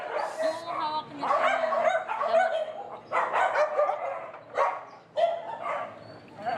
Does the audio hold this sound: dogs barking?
yes